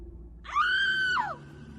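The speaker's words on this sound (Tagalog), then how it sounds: "Merong sumisigaw!" A woman screams loudly and shrilly for under a second, a sustained piercing cry that rises and falls, used as a sound effect in a Filipino aswang horror story.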